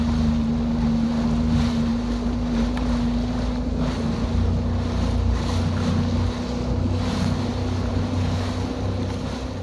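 A Sea-Doo Fish Pro jet ski runs across the open ocean off Miami, Florida, its steady engine drone joined by wind buffeting and splashing water, loud and continuous throughout with no talking.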